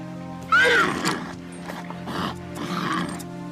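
A horse gives a loud, close whinny, its high wavering call rising then falling, followed by softer snorting and shuffling.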